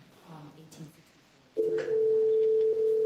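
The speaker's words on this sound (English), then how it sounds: "I can hear a phone ringing" A telephone rings during an online city community council meeting, a steady electronic tone starting midway and holding loud and unbroken, after a brief stretch of faint talk.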